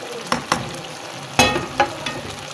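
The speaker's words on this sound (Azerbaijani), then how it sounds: "Nəhrə yağından gözəl yağ soğan etdim." Onions frying in churned butter in a pot give a steady sizzle, broken by several sharp stirring scrapes and spatters at irregular moments, close and clear, with no talk.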